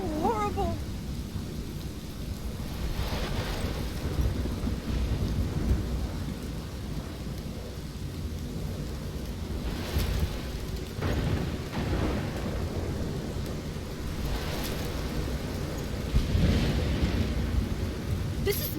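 A steady heavy downpour with recurring rolls and cracks of thunder during a storm in the video game Life Is Strange, continuous rain hiss throughout with louder thunder swells.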